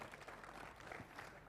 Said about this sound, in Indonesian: Tepuk tangan semuanya teman sekalian